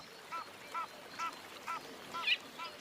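Birds beside a river in Africa give short goose-like honks, about six evenly spaced calls at a moderate distance over a quiet background.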